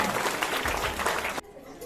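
A church congregation claps in praise for about a second and a half, loud and dense, then cuts off abruptly into a quiet room tone.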